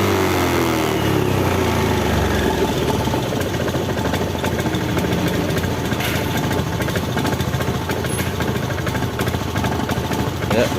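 A Honda Beat scooter engine with fuel injection idles roughly, a steady close buzzing drone that runs unbroken throughout, with a faint rising whine at the start.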